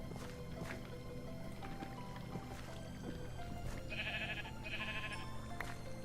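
Sheep bleat in the Minecraft game, several short blocky bleats spaced irregularly over soft ambient background music, two of them louder and nearer than the rest.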